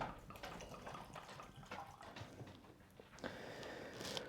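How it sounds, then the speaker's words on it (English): Evan Williams Bottled in Bond bourbon being poured from the bottle into a glass, a soft, close liquid trickle and splash lasting a few seconds. "Let's go ahead and pour out a glass."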